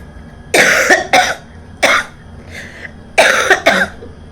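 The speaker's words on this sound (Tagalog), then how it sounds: "Grabe yung ubo ko" Several harsh coughs come in bursts of one or two, close and loud, separated by short quiet pauses, with a throat-clearing sound in the middle.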